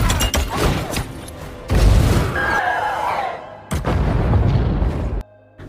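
Cannons of the mobile city London firing in the film Mortal Engines, heavy booming blasts in repeated bursts with rumbling aftermath, loud and close, separated by short rolling pauses.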